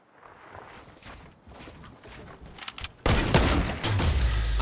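Gunshots in the Fortnite video game: scattered sharp cracks at moderate distance, then heavier, louder, sustained shots toward the end, with some footstep-like shuffling between them.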